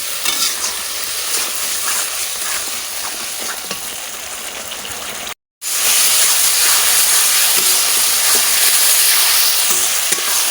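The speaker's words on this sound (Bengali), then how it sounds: "মশলা ভালো করে কষানো হয়ে গেছে" Onion and garlic spice paste frying in a pan for chicken biryani makes a loud, dense, continuous sizzle with faint stirring scrapes, broken by a brief silent gap midway before resuming even louder.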